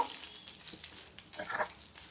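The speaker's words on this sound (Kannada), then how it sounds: "ಇದನ್ನ ಕ್ಲೀನಾಗಿ ಈ ಎಣ್ಣೆನಲ್ಲೇ ಹುರ್ಕೊಳ್ಬೇಕು." Dried Byadgi red chillies frying in hot oil for a dhaba-style chicken masala, a steady close sizzle with soft crackles and a brief louder burst of spitting partway through, no talking.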